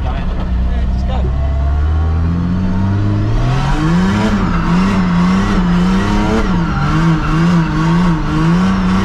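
Engine-swapped Mazda MX-5 drifting in second gear, its engine loud and close, revving up and rising through repeated swells while tires squeal continuously, with a voice talking over it.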